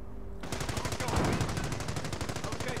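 Rapid automatic gunfire from the World War II strategy game Company of Heroes, a dense rattling burst that starts abruptly and continues steadily and loudly with battle noise layered underneath.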